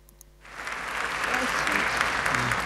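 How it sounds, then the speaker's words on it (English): A large crowd at a Kenneth Copeland meeting breaks into loud, sustained applause that swells in after a short quiet moment and continues as dense clapping throughout. "I want you to listen to Kenneth Copeland's crowd"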